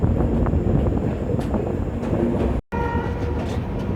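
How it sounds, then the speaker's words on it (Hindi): Narkher–Kacheguda Intercity Express, diesel-hauled, taking a sharp curve onto a bridge: a continuous close rumble of rolling wheels with heavy wind buffeting, then a brief cut before the rumble resumes. "पूरी ट्रेन यहाँ शार्प कर्व लेगी और वो ब्रिज से क्रॉस होगी।"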